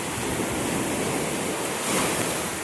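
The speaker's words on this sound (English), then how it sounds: "The waves are like moving up really fast." Ocean waves wash over rocks on a beach in a continuous loud rush of surf and spray, with a slight swell near the end.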